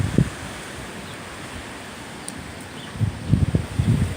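Wind blows through a backyard on a windy day, a steady airy rush that swells into stronger, rumbling gusts near the end, with no voices.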